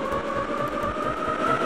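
Metro train running in the Roblox video game, a steady rumbling roll with a sustained tonal whine and faint rhythmic clatter, continuous and fairly close with no talk.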